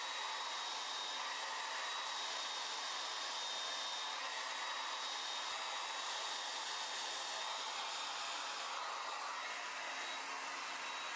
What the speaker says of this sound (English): go in with my blow dryer